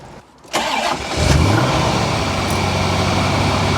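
Corvette C4 ZR-1 barn find being restored, its engine cranking and firing up with the airbox fitted, then settling into a steady, loud, close idle with no talking.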